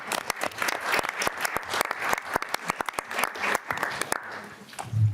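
A short burst of applause in a legislative education finance committee hearing room, a small group clapping with distinct, separate claps that thin out toward the end.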